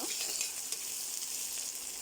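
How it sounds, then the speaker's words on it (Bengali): Onions frying in a pan give a continuous close sizzle with faint stirring scrapes, steady throughout and no talking. "আমার পেঁয়াজটা মোটামুটি ভাজা হয়ে গেছে"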